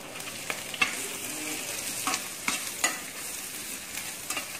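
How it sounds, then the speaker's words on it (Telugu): Half a cup of grated ginger fries in oil in an iron pan, with a steady soft sizzle under sharp scraping clicks as it is stirred every second or so. "నూనెలో బాగా ఫ్రై అవనివ్వాలి నేను ఇనప కళాయి తీసుకుంటానండి"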